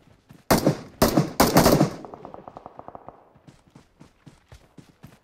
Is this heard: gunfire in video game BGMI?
yes